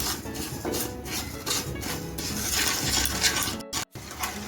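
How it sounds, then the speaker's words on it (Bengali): Sugar melting into caramel in a pan over a medium flame with no water, stirred constantly, giving repeated close metallic clinks and scrapes of a utensil against the pan, with a brief break near the end. "আমি এখানে অনবরত নাড়তে থাকবো"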